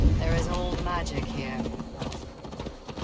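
Horse hooves clip-clop at a steady ride through a forest in Gloucestershire in Assassin's Creed Valhalla, rhythmic and moderately close, largely under voices talking over the ride.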